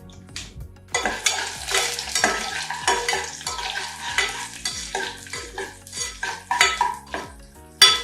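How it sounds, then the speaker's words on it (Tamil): Chana dal and urad dal sizzle in a pan for a drumstick leaves chutney while a metal spoon scrapes and clanks against it in repeated close strokes, over a soft continuous fry, with no voices. "கடலைப்பருப்பும் உளுத்தம்பருப்பும் போட்டுக்கோங்க."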